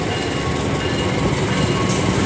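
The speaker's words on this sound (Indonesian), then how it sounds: "akan segera masuk kereta api Argo Bromo Anggrek tujuan akhir stasiun Surabaya Pasar Turi" Argo Bromo Anggrek passenger train arriving at a station on the Surabaya Pasar Turi line, a loud, steady, close rumble of rolling wheels and carriages that continues throughout, with no talk.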